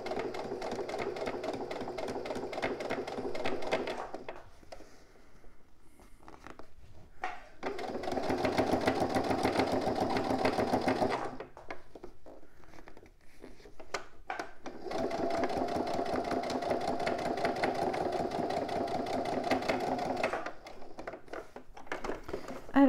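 A sewing machine runs through the final seam of a lined garment in two long, steady bursts of rapid mechanical stitching, with short quiet pauses between them and before the end.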